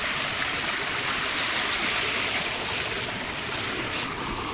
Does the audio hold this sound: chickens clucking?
no